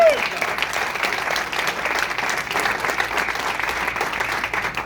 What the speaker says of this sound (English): Give all of our presenters a round of applause.